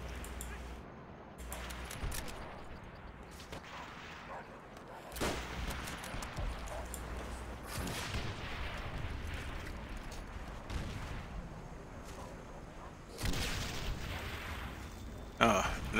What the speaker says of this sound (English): We got the artillery ramping up.